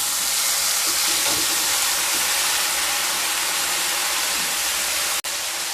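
Marinated paneer hits hot oil spiced with black pepper and is stirred, giving a loud, steady, close sizzle that holds evenly throughout, with no voices.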